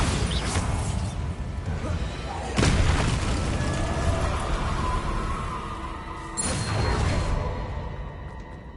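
Bombarda spell explosions in Hogwarts Legacy burst out in two heavy, crashing booms with debris-like smashes, spaced a few seconds apart over a rumbling game ambience.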